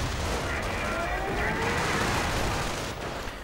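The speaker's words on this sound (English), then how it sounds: "More sniper fire, ending the lives of a few Americans" Sniper and rifle fire crackle in a WWII strategy game battle, a dense spread of gunshots and battlefield rumble at moderate volume throughout.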